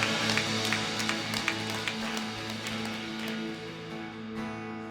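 Congregation at a Korean Sunday church service clapping in a steady, rhythmic patter over sustained worship music, moderately loud and fading toward the end.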